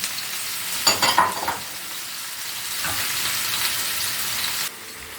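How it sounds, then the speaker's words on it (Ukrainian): Grated carrot and onion fry in a pan, with a steady broad sizzle throughout and a few louder stirring scrapes near the start, close up and with no talk. "І ще підсмажуємо з морквою."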